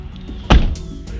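A car door shuts on a draped sheet for a trunk-or-treat display, making one dull, close thump partway through with a short rattle after it.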